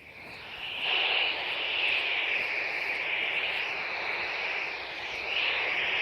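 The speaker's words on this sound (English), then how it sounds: "I've been doing quite a bit of flying my drone around" A drone flies overhead outdoors, giving a steady, high-pitched whining buzz that rises quickly, holds at a fairly even level with slight wavering, dips briefly and swells again.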